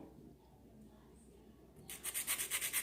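A nail file rasps softly across stiletto nails coated with a peel-off base, starting as a faint scratchy rub and turning into a louder, steady rhythmic back-and-forth filing.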